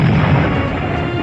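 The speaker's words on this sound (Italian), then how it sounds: "Sono i cannoni tedeschi, Corto." German cannon fire during a World War I air battle: a loud, dense, rumbling wash of distant artillery, sustained and continuous through the short moment.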